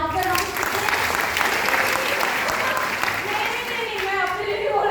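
Seminar audience at a business success event breaking into sustained, dense applause, loud and even throughout without talk.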